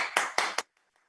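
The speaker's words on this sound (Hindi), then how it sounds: "आपकी भरपूर तालियों में" Clapping from the audience at an Oriflame mega event session, arriving as three short, loud bursts in quick succession that cut off sharply into near silence.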